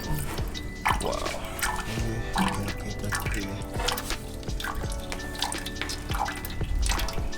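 Oil drains and drips out of the engine sump on a BMW E36, a steady close liquid trickle and patter running throughout the whole stretch.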